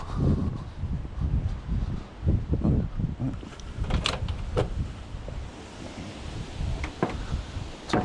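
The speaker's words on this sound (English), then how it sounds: "Oh, it's windy." Gusty wind buffeting outdoors on a street while scrapping metal, a steady rumbling roar with occasional clicks and knocks, no voices.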